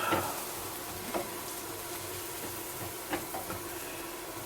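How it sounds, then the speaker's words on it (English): Cream is stirred into a hot pan, giving a continuous sizzling hiss broken by a few scraping strokes of the utensil, close and fairly loud. "stir it in"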